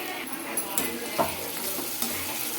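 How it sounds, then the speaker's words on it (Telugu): Ginger garlic paste fries with softened onions in a pan, making a steady close sizzle with a few scraping stirs and light utensil taps. "అల్లం వెల్లుల్లి పేస్ట్ పచ్చి వాసన పోయే వరకు ఫ్రై చేసుకోవాలండి"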